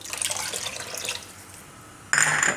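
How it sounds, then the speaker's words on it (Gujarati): Half a cup of water poured from above into simmering drumstick soup in a Gujarati kitchen: a soft liquid rush early on fades, then a brighter, louder splash of pouring starts near the end. "તો આમાં આપણે થોડુંક પાણી ઉપરથી નાખીશું, અડધા કપ જેટલું."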